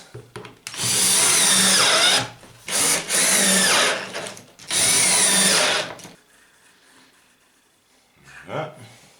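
A power drill drives screws into wood while building a beehive floor, sounding as three loud, close whirring bursts that each last a second or two, followed by quiet handling noises.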